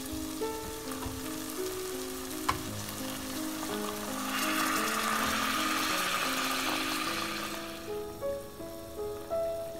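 Shrimp kofta curry sizzles loudly in the pan just after hot water goes in, a bright crackling hiss that swells midway and then fades, over a steady background drone without talk.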